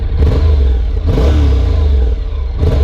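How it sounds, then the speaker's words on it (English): A 2014 Honda CTX700 DCT with a parallel-twin engine rumbles loudly and close up, its exhaust note surging and easing as the throttle is blipped, with a deep throbbing low end. "The exhaust rumble really sounds neat for this bike."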